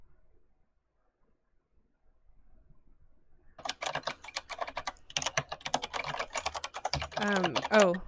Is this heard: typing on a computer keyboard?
yes